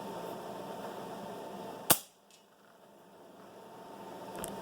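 A single sharp shot from a Marauder PCP air rifle fitted with a JSAR balance valve, super hammer and twin spring system, a loud close crack that decays fast into quiet background noise.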